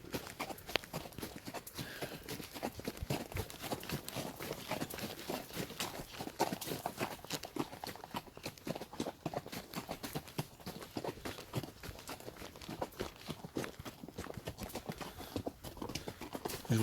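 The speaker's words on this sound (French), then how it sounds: "Je vous laisse écouter les bruits des sabots." Horse hooves clip-clop steadily throughout a weekend trail ride, a close, even rhythm of hoof strikes on the ground, heard at a modest level with no talk over them.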